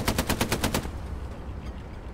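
Rapid automatic gunfire in the World War II shooter game Hell Let Loose, a quick burst of about eight evenly spaced, loud close shots that stops abruptly, leaving a quieter ambient tail.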